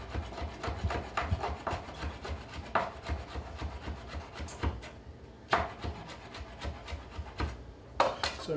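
A knife shaves fresh basil into thin strips on a wooden board, making a steady run of close, soft scraping strokes in a quick rhythm with brief pauses.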